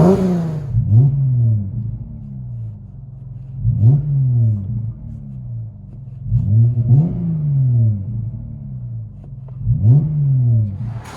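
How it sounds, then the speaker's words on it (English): A 2020 Dodge Challenger 3.6L V6 with its rear muffler deleted revs repeatedly, four or five loud, close throttle blips that rise and fall over a steady idle rumble, with no talking. "Dodge Challenger V6 2020. Rear muffler delete."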